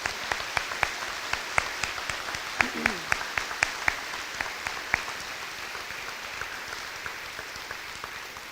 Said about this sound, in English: Could we give them a round of applause for being here